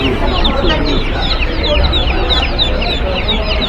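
Hens and roosters cluck continuously at a busy outdoor poultry market, with dense overlapping calls close by and a steady crowd murmur underneath.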